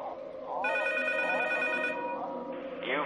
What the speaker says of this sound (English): And then the phone should ring.